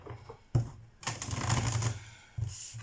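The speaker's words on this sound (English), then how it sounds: "So let me shuffle the cards." Tarot cards riffle and slap together in close, quick bursts, a long rustling shuffle in the middle with shorter flicks before and after.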